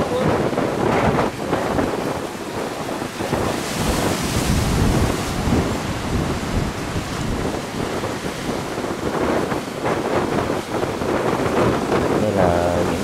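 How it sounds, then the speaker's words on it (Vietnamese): Big sea waves crash and surge at a harbor mouth as a tilting fishing boat heads into port, a loud continuous roar of surf and wind buffeting the microphone throughout, with voices faintly mixed in. "bắt được con sóng lớn và dập đây."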